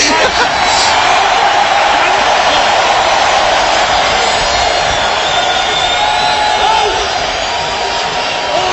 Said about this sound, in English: A lot of noise from this crowd here in Orlando.